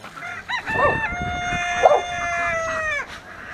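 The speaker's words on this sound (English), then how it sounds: "He's crowing." A four-month-old rooster on a farm lets out a single strained, creaky crow, loud and close, sustained for a couple of seconds before trailing off.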